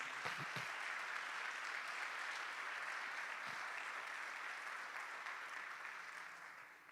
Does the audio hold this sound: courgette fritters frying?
no